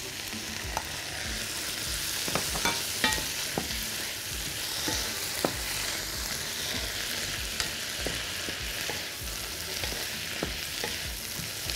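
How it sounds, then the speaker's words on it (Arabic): Tomatoes and onion sizzle steadily in a hot pan, a continuous frying hiss with repeated clinks and scrapes of a spoon stirring, close and alone with no talk. "يتشوح حلو قوي"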